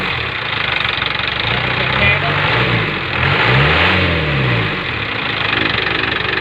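An Isuzu four-wheeler pickup with an 88-horsepower engine, hood open, is revved loudly close up, its pitch sweeping up and down in a few surges over a rough idle.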